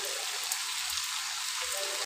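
Pumpkin and Malabar spinach frying in a pan, a dense steady sizzle and crackle filling the short moment before it cuts off abruptly.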